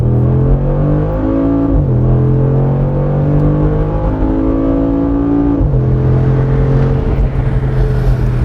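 A 2021 Mercedes-AMG G 63 engine roars loudly up close as it accelerates, its pitch climbing and then dropping at two gear changes.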